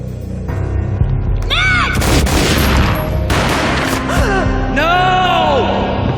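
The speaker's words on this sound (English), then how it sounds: "A gunshot boomed and she fell down in slow motion." A gunshot booms amid Max Payne video game action, with a heavy low-end blast followed by sweeping whooshing effects and a second swell of processed sound, loud and dense throughout.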